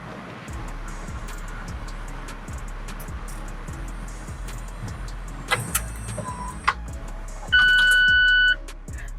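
A Mazda MX-5 retractable hardtop closes while the car idles, with a steady mechanical whir, faint clicks and motor hum under the engine rumble, followed by a sustained electronic chime once the roof finishes.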